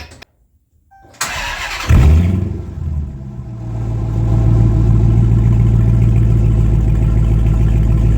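A Dodge Challenger with its exhaust removed cranks briefly and fires up with a loud bark, then settles into a deep, rumbling idle that swells and holds steady and close.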